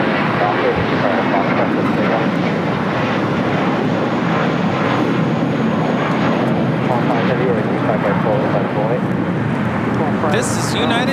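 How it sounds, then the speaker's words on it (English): A United Airlines Airbus A320 airliner takes off from LAX, a steady, loud broadband engine roar filling the scene from start to end, with people talking over it. "1855 taking off to Houston Intercontinental on an A320"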